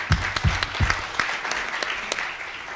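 An audience claps at a talk by a fast food workers campaign director, with a few loud close claps up front and then steadier scattered clapping that fades slightly.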